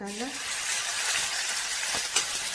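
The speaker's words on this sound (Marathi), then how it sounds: "कांदा व्यवस्थित गुलाबी रंगावर परतून घ्यायचा" Finely chopped onion fries in hot oil in a pan, a continuous close sizzle with occasional stirring scrapes and light clinks, no talk.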